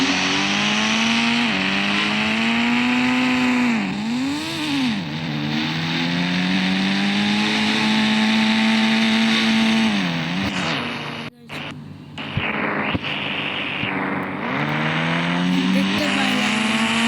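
A vehicle engine in a 3D bike-riding mobile game revs repeatedly, its pitch sweeping up and down in long surges. A short skid or squeal and a brief gap come near the end.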